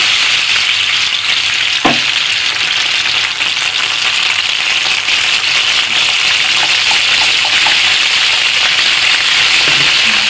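Onions frying in oil in a pan as a little water is poured in, giving a steady loud sizzle with a brief splash near the start and faint stirring clicks later.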